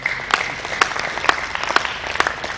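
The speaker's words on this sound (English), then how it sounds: "Please clap for him." Applause from a conference audience at a financial fraud and cybercrime event: evenly spaced, sharp claps about twice a second over a steady bed of crowd noise.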